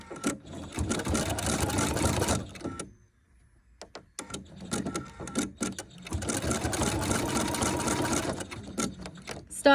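Husqvarna Viking Epic 3 sewing machine stitching an embroidery satin-stitch design, a close, steady motorized whir running for about three seconds, pausing, then resuming for several more seconds with small clicks in between.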